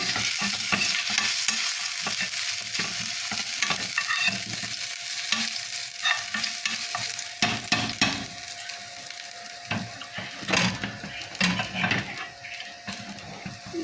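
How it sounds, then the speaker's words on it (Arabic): Garlic cloves fry in hot oil in a pan while being stirred, giving a steady crackling sizzle broken by scraping, clattering spoon strokes against the pan, close and fairly loud. "بالطريقه دي فص التوم اتحمر اهو"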